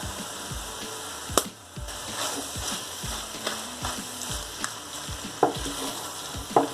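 Fennel seed powder is stirred into a brinjal and potato curry frying in a pan, with a steady sizzle under repeated scraping spoon strokes and occasional clinks against the pan.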